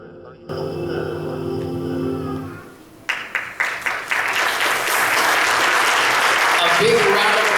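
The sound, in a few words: audience applause after youth skit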